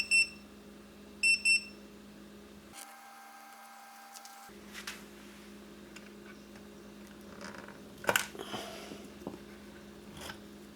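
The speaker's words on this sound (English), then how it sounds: "the double beep will be repeated approximately every 30 seconds until the battery is disconnected" A Spektrum S155 smart charger sounds its completion tone, one double beep near the start and another shortly after, each short and high, followed by quieter handling noises.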